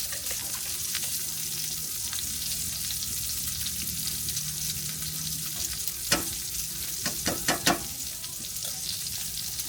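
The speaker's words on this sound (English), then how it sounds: "cut on the fire. Let it get hot. Let that grease melt." Grease melts and sizzles on a hot griddle while a breakfast sandwich is being cooked. The steady frying hiss runs throughout, with a few sharp scrapes or pops near the end.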